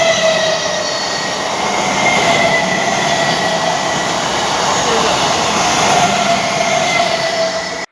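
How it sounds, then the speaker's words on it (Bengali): An express train bound for Sealdah rolls across a bridge near Ultadanga, a loud continuous rumble of wheels and carriages close by with a faint metallic squeal riding over it, steady until it cuts off at the end. "একটা এক্সপ্রেস ট্রেন ঢুকছে যে ব্রিজের মধ্যে দিয়ে"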